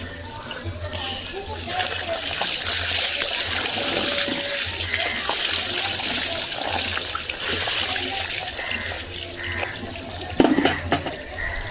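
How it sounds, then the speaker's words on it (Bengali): Water splashes and runs steadily during an uncle's bath, a continuous broadband wash with occasional louder splashes near the end, while voices talk over it. "কাকা এখন চান করছে, আমরা দেখছি"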